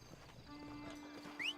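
In the western video game Red Dead, a horse clops its hooves quietly and gives a short, high whinny near the end, faint against a soft game background.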